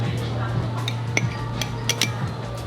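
A spoon skimming foam off simmering shabu hot pot broth, making light metallic clinks and scrapes against the pot over a steady low bubbling hum.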